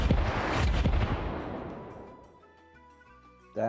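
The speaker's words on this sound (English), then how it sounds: "Mortar strike incoming." A mortar strike explosion in a video game booms loudly with a sharp initial blast and crackling bursts, then rolls off into a long fading rumble, followed by quiet in-game tones.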